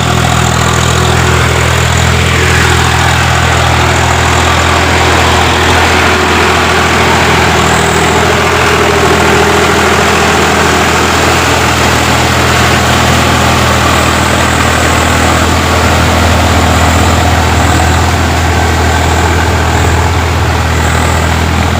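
A tractor engine runs loudly and close while ploughing with a rotavator, a constant heavy low-pitched drone with mechanical rattle throughout and no speech.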